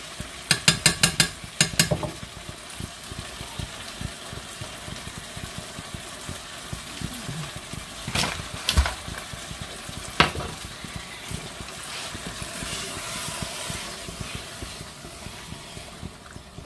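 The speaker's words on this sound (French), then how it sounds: "On mélange bien." A beef stew with onions and mushrooms being stirred in a pot: a quick rattle of utensil knocks at the start, then a low steady simmer and sizzle with occasional scrapes and clinks, no talk.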